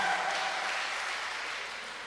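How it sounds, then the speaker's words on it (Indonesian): A church audience claps for two contestants at an afternoon event, moderately soft applause that fades slowly toward the end. "Saya minta tepuk tangannya lagi dong untuk kedua peserta kita yang sudah luar biasa pada sore hari ini"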